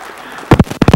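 Church congregation at a First Church of the Nazarene service bursting into applause after a quiet moment, a sudden loud burst of clapping with uneven swells.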